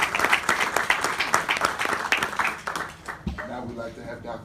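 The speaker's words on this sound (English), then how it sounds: "a round of applause" A crowd at a congressional forum on school closings claps in dense, steady applause that fades out after a few seconds, with a voice speaking over it.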